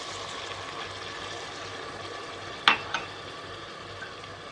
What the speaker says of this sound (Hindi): अब यहीं पर हम पानी का इस्तेमाल करेंगे।